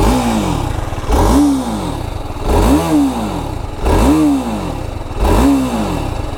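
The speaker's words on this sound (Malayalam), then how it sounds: "കൊള്ളാം, എനിക്കിഷ്ടപ്പെട്ടു കേട്ടോ ഇതിൻ്റെ ഒരു എക്സോസ്റ്റ്." A 2025 TVS Apache RR 310 motorcycle revs hard up close, its exhaust climbing and falling in five loud, evenly spaced blips over a steady idle, with no voices.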